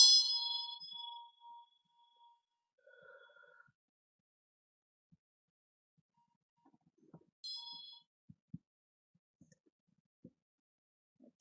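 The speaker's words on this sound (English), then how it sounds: "Okay, so the bell." A small bell rings out clearly at the start and rings again about seven seconds later during a tarot reading, each strike followed by a fading ring, with a quiet room and soft handling knocks in between.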